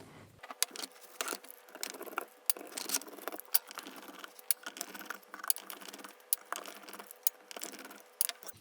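A screw is unscrewed with a 2 mm Allen key screwdriver during disassembly of an RTI Prophet II, heard as quiet, close metallic clicks and ticks that repeat irregularly over a faint background.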